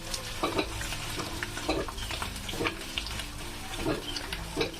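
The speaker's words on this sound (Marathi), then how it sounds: "एक खोबरं आणि कांद्याचं वाटण टाकलं याच्यामध्ये" Coconut and onion paste cooking in a pan, a low sizzle under rhythmic, close stirring and scraping strokes roughly every second, with no voices.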